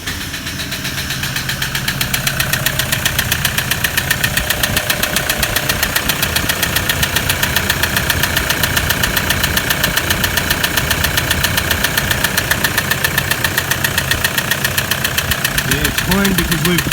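Poorly maintained Toyota 1KD diesel engine idling with a steady, rapid metallic knock, loud and close, pulsing evenly throughout with no talk over it.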